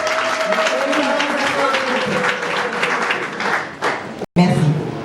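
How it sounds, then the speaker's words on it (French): A large crowd applauds and cheers for the president at a public event in Paris, a loud sustained roar of clapping mixed with shouting voices, ending in a brief cut before the noise resumes. "acclamons pour notre président"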